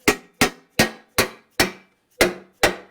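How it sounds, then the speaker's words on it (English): A cover on a 2006 Polaris Hawkeye ATV is tapped back into place with a hammer: seven sharp, close metallic knocks in a fairly even rhythm, with a brief gap before the last two. "And then I think you just give it a tap."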